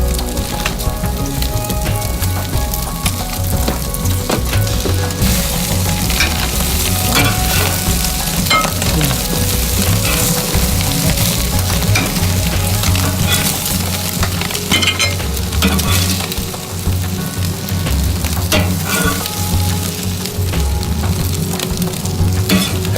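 Burgers frying on a BBQ grill while cheese is laid on them give off loud, continuous close sizzling and crackling, with occasional scrapes and clicks and no voices.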